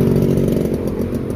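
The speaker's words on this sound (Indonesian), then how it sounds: "di sore kali ini aku mau tes suara knalpot full system ya" Yamaha WR 155R motorcycle fitted with a Daytona GP Taper Competition full-system exhaust, engine running steadily with a continuous buzzing drone, close and loud, no voices.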